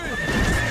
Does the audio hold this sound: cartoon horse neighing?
yes